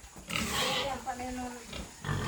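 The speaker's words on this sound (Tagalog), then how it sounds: "Ito guys, baboy namin." A large pregnant farm pig in a rural backyard gives a few low grunts at close range, mixed in with people talking nearby.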